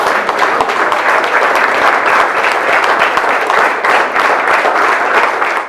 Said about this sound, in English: we just need to hear that round of applause